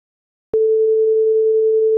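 A steady 440 Hz sine tone from a Pure Data oscillator patched to the DAC output, starting abruptly after half a second of silence and holding loud and constant to the end.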